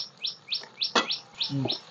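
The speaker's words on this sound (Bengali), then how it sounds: "আর তার সঙ্গে পাখির আওয়াজ" Birds chirp outdoors in a repeated series of short, bright tweets about every third of a second, fairly close, with a brief louder call and a low thump partway through.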